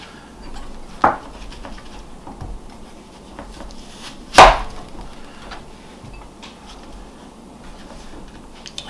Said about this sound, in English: I'm just going to go down the top of the apple and cut out the core.